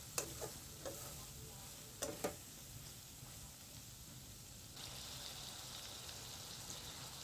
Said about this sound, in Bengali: টমেটো দিব, ভালো করে কষাবো